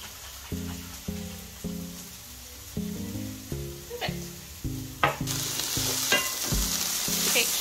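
Mixed vegetables sautéing in a pan with a steady, close sizzle and stirring scrapes, set against tonal background music that rises toward the end.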